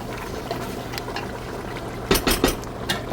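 Hot water is poured into a pot of chicken biryani being cooked with chili powder, a soft liquid pouring and bubbling sound with a few louder splashes near the end, fairly quiet and close.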